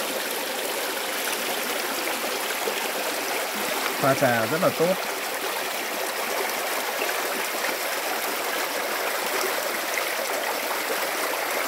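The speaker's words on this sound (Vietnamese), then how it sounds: "Đây là một cái suối này cũng là một cái nguồn nước" Mountain stream at Suối Nhiệm in Sủng Trái, Đồng Văn, Hà Giang, flowing as a steady broad rushing wash of water; someone speaks briefly over it midway.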